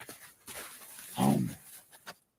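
A dog whimpers and pants close by, giving short breathy pants and then a louder whining whimper in the middle before it goes quiet.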